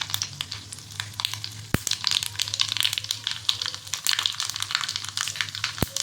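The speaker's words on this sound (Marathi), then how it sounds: "त्यामध्ये घालायचे मोहरी" Mustard seeds crackle and pop in hot oil for a tadka tempering while coconut chutney is prepared, a dense continuous sizzle with brief sharp clicks near the pan.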